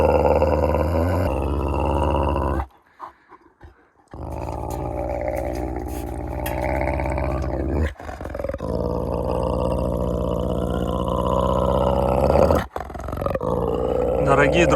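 Grey wolf growling and roaring aggressively at close range, a loud, sustained, throaty snarl that runs almost without break and drops out briefly once, with someone talking over it.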